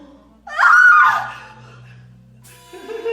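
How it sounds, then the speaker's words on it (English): A female game character screams in a tense tournament video game, one loud rising-and-falling cry lasting about half a second, followed by a low hum and faint background game sounds. "This is why she's screaming."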